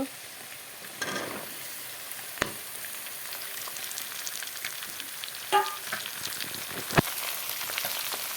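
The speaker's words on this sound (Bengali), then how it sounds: "মাছের তেল দিয়ে বেগুনগুলো দিয়ে ভাজা করব আলু বেগুন দিয়ে" Potatoes and eggplant fry in fish oil for a Bengali catla fish dish, giving a steady close sizzle with occasional sharper crackles and a few louder pops.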